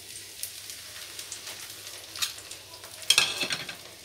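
Whole tempering spices sizzling in hot oil for a potato cream chicken dish, a steady soft crackle with scattered pops and a brief louder spatter burst near the end, fairly close and quiet.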